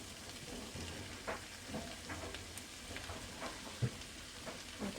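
Peppers and onions sautéing in a pan for pepper steak give a soft, steady sizzle, faint and continuous, with a few light scrapes and clicks of stirring.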